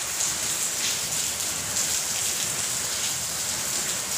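Steady rain patters down in a continuous hiss, fairly close and even, with no voices.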